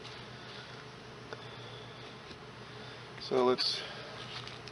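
Honeybees drone in a low, steady hum around an opened hive with a person working on it close by. Brief speech rises over the buzzing near the end.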